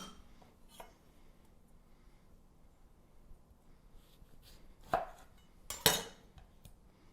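A knife slices through a zested citrus fruit on a kitchen board, two quiet but distinct cutting thuds close together after a stretch of near silence.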